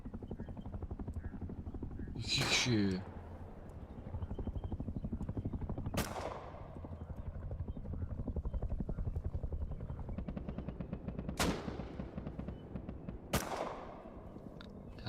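A helicopter in the video game Rust keeps up a loud, steady rotor thrum for the whole stretch. A few sharp gunshot cracks cut through, and a voice speaks briefly.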